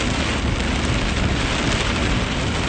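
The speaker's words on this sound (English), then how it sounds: "this heavy rain is definitely creating" Heavy rain pours down during a storm in Western, Massachusetts, a dense, loud, unbroken roar of water hammering on a vehicle with no pauses.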